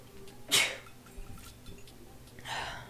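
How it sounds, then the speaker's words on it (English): A single close, abrupt sneeze from someone suffering allergies, followed by faint breathy sniffles and a soft exhale in an otherwise quiet room. "sniffling and sneezing and stuff"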